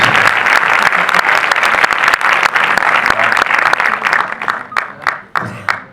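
Audience applauding a film's stunt actors at a film presentation: dense, loud clapping that holds steady and then thins into scattered claps near the end.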